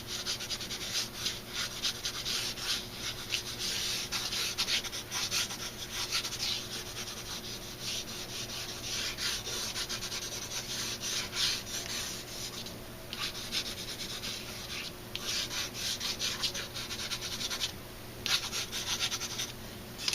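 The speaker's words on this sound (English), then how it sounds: "So for that, I'm going to use the side of the layout pencil. I'm going to lay it flat like this." The flat side of a layout pencil shades hair on a drawing of a face, giving a close, continuous dry rubbing and scratching on paper in irregular strokes with brief pauses, and no talking.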